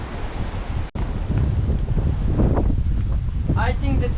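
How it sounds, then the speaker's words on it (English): Strong wind buffets the microphone on a tropical shore while heavy surf rolls in, a loud continuous roar with a brief dropout near the start and faint voices toward the end. "The waves are so strong and the wind"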